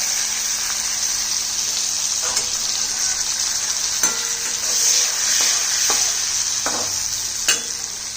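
Cashew pieces sizzle in hot oil in a pan for a butter mushroom dish, a steady close frying hiss broken by scattered clicks and scrapes of stirring.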